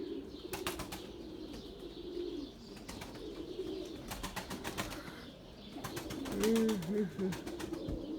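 Tumbler pigeons in flight outdoors, with repeated bursts of wing claps and flapping against a steady background, plus soft coos, and someone speaking nearby.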